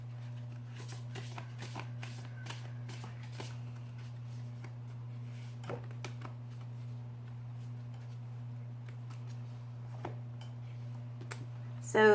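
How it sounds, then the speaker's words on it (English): Tarot cards shuffled and drawn from a deck, soft scattered flicks and light slaps over a steady low hum, with a brief louder riffle at the very end. "So I'll pull out my last card."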